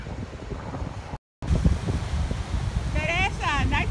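Strong outdoor wind buffets the microphone with a loud, continuous rushing roar that cuts out briefly, then returns. Voices can be heard faintly underneath.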